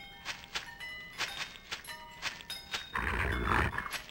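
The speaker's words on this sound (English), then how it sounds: "They ran out of dog sounds and had to start using pig sounds." A dog in the video game Shadow Man lets out repeated short, grunting, pig-like snorts in an irregular rhythm, followed by a louder, rougher burst near the end.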